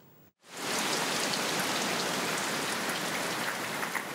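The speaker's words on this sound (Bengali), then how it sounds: "স্বস্তির বৃষ্টি" Steady rain pours down after a brief quiet moment, a dense, even hiss of drops hitting surfaces that holds at full strength throughout, close and loud, with no voices.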